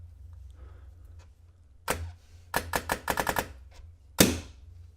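A short burst of sharp pneumatic pops from a DSR paintball marker with an ARC Bolt cycling and shooting, one shot then a rapid string of about seven, and a final louder crack, over a low steady hum.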